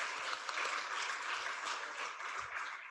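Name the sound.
audience applause at a report launch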